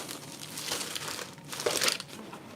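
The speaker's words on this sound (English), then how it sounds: "I have no idea how loud the rustling is," Paper crinkling and rustling while pieces are handled for a collage in a sketchbook, soft close crumpling in irregular bursts, swelling briefly louder near the end, with no talk.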